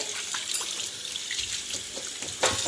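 Water runs from a tap in a quiet, steady splashing stream, with faint clinks and a sharper splash near the end.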